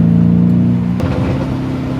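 A Lamborghini Urus SUV's engine drones loudly and close with a deep, steady rev that shifts abruptly midway into a rougher, fluctuating growl.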